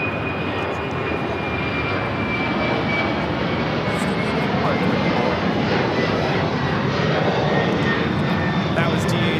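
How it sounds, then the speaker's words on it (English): A DHL Boeing 767-300 converted freighter, operated by ABX Air, takes off at LAX with a sustained, loud jet engine roar that holds steady across the whole stretch, while faint voices come and go beneath it. "That was DHL, operated by ABX Air, Flight 410, taking off to Cincinnati on the 767-300 converted freighter"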